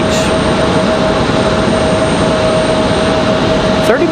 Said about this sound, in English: Got Sun Country 8181 coming in from Myrtle Beach.